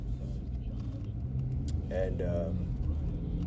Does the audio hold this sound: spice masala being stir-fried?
no